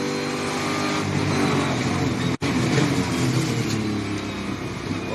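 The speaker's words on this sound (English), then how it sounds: "the LS power plant sounds sweet between the chassis rails, these innovation race cars" Onboard sound from an LS V8-powered Innovation race car lapping Queensland Raceway, a loud, steady, close engine roar at high revs with a brief cut in the middle before it picks straight back up.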